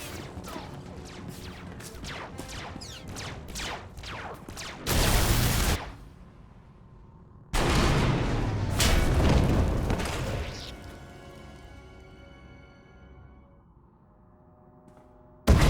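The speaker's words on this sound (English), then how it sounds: "We heard explosions. The tunnel collapsed." Heavy booming explosions and a crashing tunnel collapse in the Star Wars: The Old Republic game, two big loud blasts several seconds apart with rumbling debris between them and a sharp final burst at the end.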